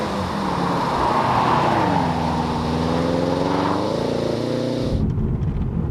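A 2003 Subaru WRX with upgraded suspension is driven at pace on a twisty road, the engine droning and rising in pitch under acceleration over steady road and wind noise, close and loud, then easing off near the end.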